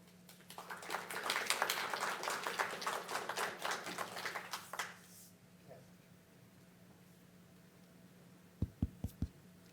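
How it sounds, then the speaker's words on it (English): An audience applauds at the end of a scientific lecture on inflammasomes: dense clapping swells for about five seconds, then fades to near silence, with a few isolated sharp claps near the end. "Let's have another round of applause"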